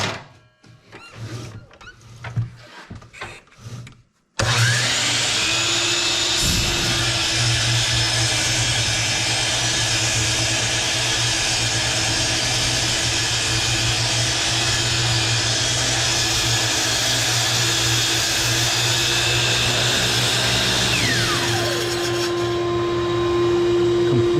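A power saw spins loudly while cutting a wooden post to length, giving a steady, dense whine that runs for about twenty seconds after a short burst of talk and handling noise.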